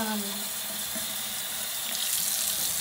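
Tap water runs steadily into a sink while Webkinz plush toys are washed, a close, even rushing stream with faint sloshing changes as the toys move under it.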